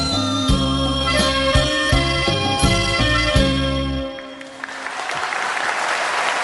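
Audience at a Thai televised singing contest breaking into applause as stage music ends, the clapping swelling into a broad, steady wash after the band stops.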